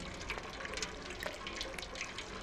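Water runs steadily from a kitchen tap in the video game Stray, a continuous close splashing stream with no talk over it.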